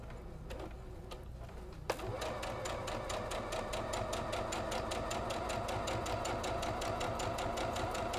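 A sewing machine stitches a seam on a Sawtooth Star quilt block, starting with a few clicks and then running in a steady, fast, evenly pulsed whir up close for several seconds.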